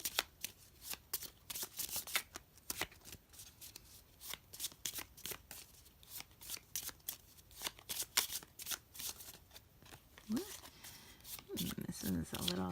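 Tarot cards riffled and shuffled close up in quick, dense bursts of crisp flutters and snaps, the riffle briefly pausing before a soft spoken voice joins near the end.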